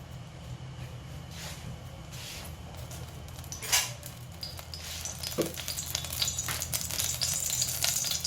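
Coconut oil heating in a pan on a gas stove while cooking Thai jungle curry with chicken and pickled bamboo shoots, a soft steady sizzle with occasional utensil clinks and scrapes nearby.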